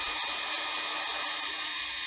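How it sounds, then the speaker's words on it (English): A hair dryer blows steadily to dry paint on a wood-turned piece, a constant close whooshing hiss with a faint motor whine and no pauses. "I'm just going to turn on my hair dryer here"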